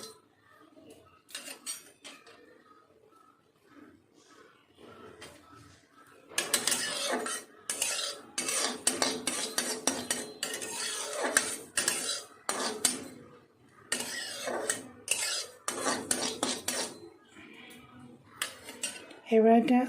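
Poppy seeds are stirred in a pan over low heat with a spatula, giving repeated metallic scraping and clinking that comes in bursts, with quiet pauses between and a voice talking intermittently.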